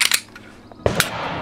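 A Stoeger STR-9MC micro pistol with over 500 rounds through it being function tested: a couple of light metallic clicks, then a sharp snap of the slide or trigger close up, brief and dry with no talking.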